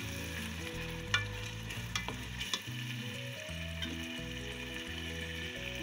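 Mixed vegetables with green chillies fry in a pan with a soft constant sizzle, punctuated by a few sharp spoon scrapes and taps while being stirred, quiet and close, with a steady low hum beneath.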